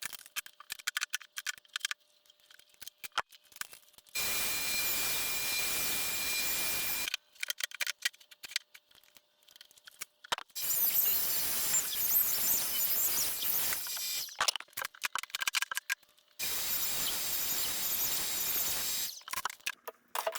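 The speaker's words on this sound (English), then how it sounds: "rotate these legs and they'll line up, and then I can cut them on the other sides" A power tool cuts dado grooves into wooden legs for a rustic dining table, running in three loud, sustained bursts of a few seconds each. Quieter pauses with light handling noise separate the bursts.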